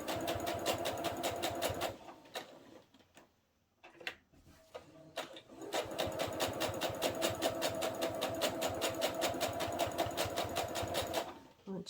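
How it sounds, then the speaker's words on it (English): A sewing machine stitches steadily around mitered corners with a fast, even mechanical ticking. It runs briefly, pauses for a couple of seconds with a few clicks, then resumes at full speed, close and clear. "I'm just going to stitch the whole way around"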